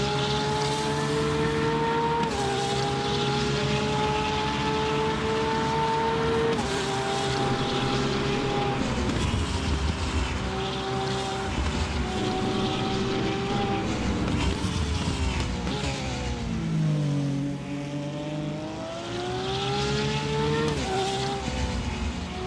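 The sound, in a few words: Porsche race car engine from the video game RaceRoom Racing Experience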